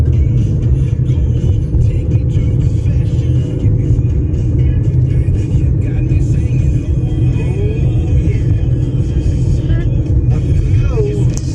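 A car drives up a winding mountain road with switchbacks, a loud, steady engine rumble and road roar filling the whole stretch, with occasional higher whines as it climbs.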